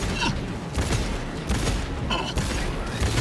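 Rapid weapon gunfire in the Cyberpunk 2077 video game, with repeated bursts of loud shots and mechanical clatter that recur every second or so over a busy game soundscape.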